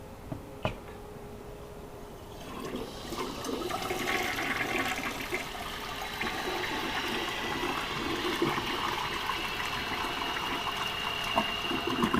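An apartment toilet flushes with a sharp click, then water rushes and hisses steadily as the tank refills with the flapper held open, continuous and close.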